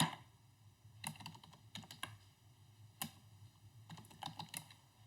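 Code is typed on a computer keyboard in irregular bursts of quick clicking keystrokes, separated by short pauses, close and fairly quiet.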